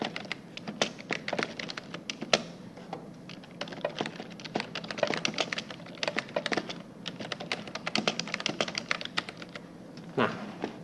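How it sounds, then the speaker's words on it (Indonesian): Steady, fairly quiet typing on a computer keyboard, rapid irregular key taps with brief pauses, heard close up against a light room hum. "saya ketikkan saja di sini"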